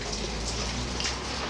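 Rain falls steadily outside a workspace during an NSU Quickly TT motorbike restoration, a close, continuous patter of drops on surfaces with a low hum underneath and no talking.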